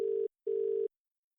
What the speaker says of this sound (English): Oh, I'm hearing ringing.